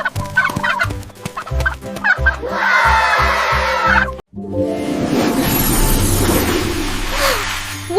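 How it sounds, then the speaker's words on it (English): A turkey gobbles, loud and close, in a quick rattling burst. Other short bird calls and clucks come before it, and the gobble fades into a trailing call at the end. "This is a turkey."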